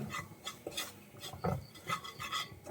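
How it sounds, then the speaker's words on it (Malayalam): Chili powder is stirred into hot oil in a pan while cooking rajma curry, giving a soft, continuous scraping and rasping with small irregular scuffs, faint and close, with no voices. "2 ടീസ്പൂൺ മുളക് പൊടി നന്നായിട്ടൊന്ന് മിക്സ് ചെയ്ത് കൊടുക്കണം"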